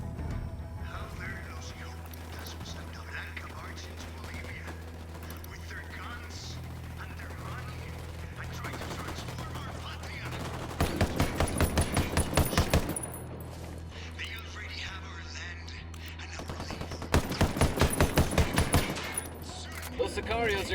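Bursts of rapid automatic gunfire in the Ghost Recon video game, two loud volleys of dense shots over a steady low engine-like drone, with radio-style voices talking between the bursts.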